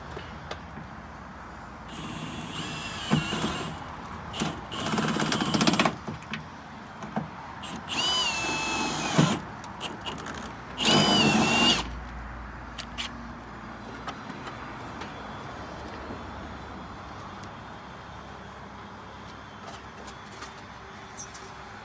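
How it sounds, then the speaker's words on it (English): Power drill with a 3/8 inch step bit drilling out squeeze nuts during a Jeep WJ, ZJ or XJ replacement window install, several separate whining bursts of a few seconds each, close and loud, with quieter handling sounds between them. "But I'm just going to use a 3/8 step bit right now and just go to 3/8."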